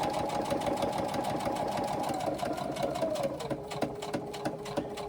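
A sewing machine stitches fabric in a steady, continuous mechanical whir with rapid needle ticking, close up and unbroken for several seconds, then settles into a slightly lower, even run.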